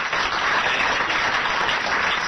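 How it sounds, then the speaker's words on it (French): A French radio-show studio audience applauds a contestant with steady, dense clapping at moderate volume, with no voice over it. "Madame Granville a mérité vos applaudissements"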